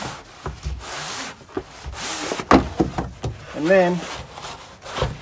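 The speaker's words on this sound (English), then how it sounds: "I'm going to take the flat edge of the trowel and push out all the mortar underneath it" A trowel presses Kerdi board into mortar inside a sprinter van shower, making intermittent rubbing scrapes and soft knocks at close range. Someone speaks briefly between the strokes.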